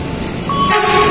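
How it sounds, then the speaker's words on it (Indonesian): An airport train approaching Tanah Abang station in Indonesia with a rising rush of wheel and air noise, a steady high horn-like tone sounding through the second half. "Ini kereta bandara."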